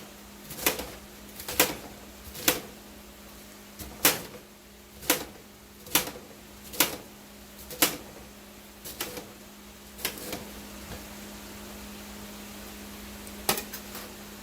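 A knife slices through cabbage for homemade egg rolls, giving about a dozen sharp, close chops in an uneven rhythm over a steady low kitchen hum, then a sparser few toward the end.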